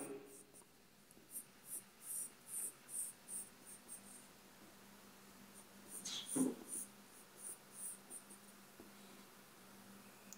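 A sharp HB graphite pencil scratches across paper while a face is drawn, with soft rhythmic strokes repeating close up and quiet, plus one brief louder scrape midway.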